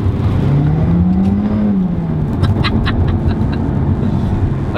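A car engine hums steadily while driving, with one smooth rev swelling and easing back as the throttle is pressed, over constant road and cabin rumble with light ticking.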